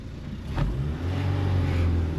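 Honda Civic engine pulling away on its first drive after codes were cleared, a close mid-pitched motor hum that rises steadily as the car accelerates, with a brief thump early on.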